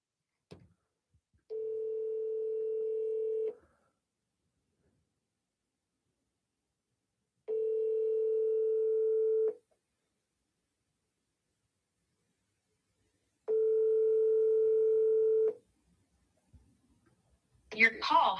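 A telephone ringback tone sounds three times while a call connects, each long steady electronic burr followed by a pause of silence, and a faint voice at the very end.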